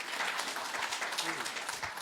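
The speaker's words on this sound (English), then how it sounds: "Give them applause" Audience applause in a room at a community meeting, steady clapping over about two seconds with some talk mixed in.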